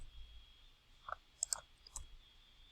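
Soft mouse clicks submitting an answer on an algebra homework graph, two or three quick close clicks in succession, quiet over a faint background hum.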